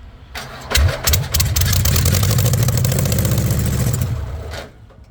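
A rat rod VW engine cranks briefly, catches and starts, then runs steadily at a rough, loud idle for a few seconds before cutting off.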